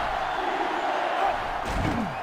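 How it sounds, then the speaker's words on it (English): Stadium crowd in the NCAAF 2005 college football video game on GameCube, Georgia versus Miami, roars steadily throughout, a loud continuous wash of cheering that swells slightly near the end. "They're really struggling now as this crowd is going absolutely insane."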